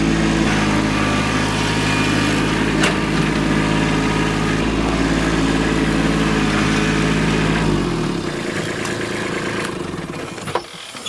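A tractor engine runs steadily at close range, a droning hum that holds even and then drops in level near the end, with no talk.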